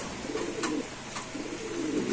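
Pigeons coo in low, repeated throaty phrases at a Bangladeshi pigeon market where racer pigeons are sold, two cooing bursts close by over a steady hum of background market noise.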